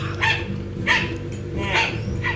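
A dog barks three or four sharp times in quick succession, close and loud, with faint whimpering between the barks.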